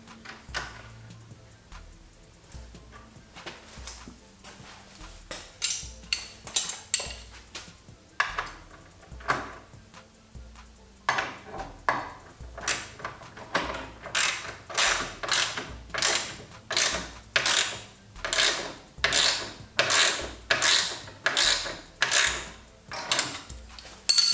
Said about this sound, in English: Put the washer and nut on the back as well, and then we can tighten this guy up.